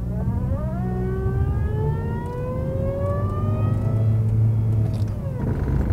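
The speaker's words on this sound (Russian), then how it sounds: "Давайте включим заднюю передачу и послушаем." Lada Vesta 1.6 with Russian AMT robotic gearbox in reverse, a loud rising whine climbing in pitch over a rumbling engine, sustained for several seconds before easing off.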